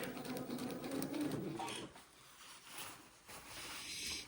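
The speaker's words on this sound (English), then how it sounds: "And I'll sew until I get to my other chalk mark." A sewing machine stitches a seam on an Eton suit, running in a steady, close whir for almost two seconds before stopping; quieter handling noise and faint hiss follow.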